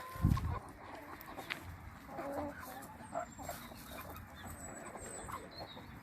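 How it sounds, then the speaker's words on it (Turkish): Chickens cluck and murmur outdoors at a moderate distance, with a brief low thump at the start and soft ambient noise throughout. "Tavuklar burada."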